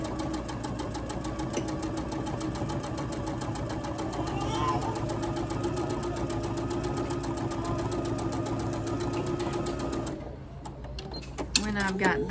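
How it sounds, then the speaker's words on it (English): A sewing machine stitches a seam on a Christmas quilt, a rapid steady mechanical chatter running close and continuous for about ten seconds before stopping, followed by faint handling noises. "I'll take it to the to the sewing machine, stitch down this last seam"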